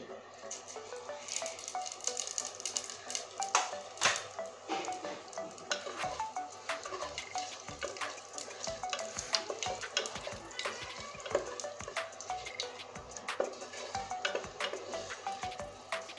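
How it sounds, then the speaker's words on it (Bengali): Cumin seeds sizzle and crackle in hot oil for tempering a Rupchand pomfret fish curry, a steady bright frying hiss with scattered sharp pops running throughout, close and moderately loud. "আর ফোড়নের জন্য দিয়ে দিব জিরে"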